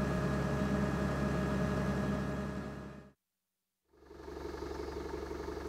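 A Komatsu PC200-8 hydraulic excavator engine idles at about 1,400 RPM under auto deceleration. A steady, even mechanical hum breaks off into a short silence, then resumes at a lower level.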